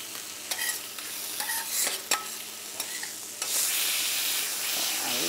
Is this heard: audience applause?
no